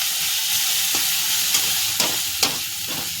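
Gram flour pithla being stirred in a pan, a steady soft sizzle broken by a few brief scraping strokes, close and fairly quiet with no talking.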